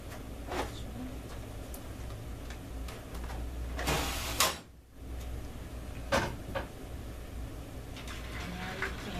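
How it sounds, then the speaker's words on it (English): A medication cart is closed and locked, with a few clicks and clunks of drawers and a latch, plus a louder thud partway through, over a quiet room hum. "Okay, you're going to close and lock your cart."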